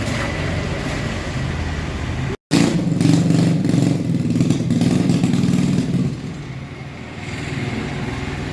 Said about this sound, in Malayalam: ഇത് എഞ്ചിൻ വരുന്നത് ഹീറോ ഹോണ്ട പാഷൻ പ്ലസിൽ ജേഴ്സായിട്ട് വരും.